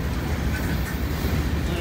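Norfolk Southern freight train 22A runs westbound through Waddy, Kentucky, a loud, steady rumble of wheels and cars rolling past close by without a break.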